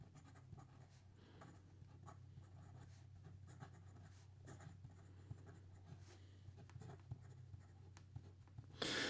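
Taccia Miyabi Kaga fountain pen with a Sailor nib writing on paper: faint, close, steady scratching strokes in a quiet room, with short pauses between strokes and a louder rustle at the end.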